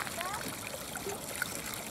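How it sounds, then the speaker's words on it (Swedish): Water splashes and trickles from a playground water tap in an ongoing, fairly soft stream, while a voice is heard talking over it. "Nu kommer det mycket vatten när du öppnar."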